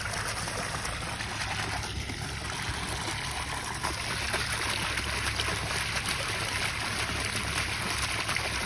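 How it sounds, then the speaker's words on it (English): A water fountain splashes steadily into a large pool, a soft continuous hiss of falling water at moderate distance with no other sounds standing out. "What a pretty fountain"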